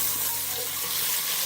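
Thinly sliced medium onions fry in hot oil for a mutton pulao, giving a steady, bright sizzle that stays loud and even throughout with no talking.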